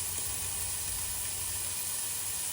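At a camp cookout, bacon and onions sizzle in a pan over medium heat, producing a steady, hissing fry that stays even throughout, with a low background hum and no voices.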